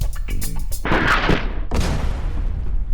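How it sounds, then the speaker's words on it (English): An explosive Mark III missile blows up in the ragdoll sandbox game Regular Human Workshop: two loud, booming blasts close together, with a rumbling tail after each. Faint game sounds come just before. "you are hereby sentenced to be executed by an explosive Mark III missile"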